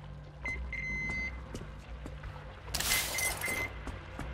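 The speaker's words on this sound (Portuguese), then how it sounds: "O que ele tá bipando pra mim, velho?" A device in the video game Metro Exodus emits short repeated beeps, a quick series of clipped tones followed by a burst of harsh static noise with more beeps, quiet over a low ambient rumble.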